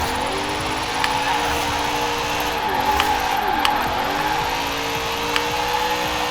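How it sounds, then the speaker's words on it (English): A 2009 Lexus IS-F driving at a steady high engine pitch while drifting with tires spinning, the tone dipping and recovering twice with brief mechanical ticks, loud and continuous. "Man, it does want to slide, and those tires just want to just keep spinning"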